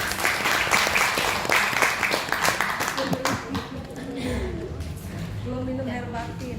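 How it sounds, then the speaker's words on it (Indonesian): An audience applauds at a health-product testimonial event, with dense, steady clapping filling the first few seconds and then thinning as a voice begins speaking over the fading applause. "Tepuk tangan dulu dong."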